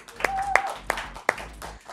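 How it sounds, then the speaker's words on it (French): A few scattered hand claps from a TV show studio audience, four or five sharp slaps spaced unevenly over a low hum, more like a small group clapping than full applause. "On applaudit."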